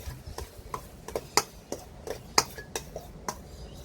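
Ricotta mixture being mixed in a bowl with a utensil, giving a run of sharp clinks and taps against the bowl in an uneven rhythm, a couple of them louder, close by in a quiet kitchen.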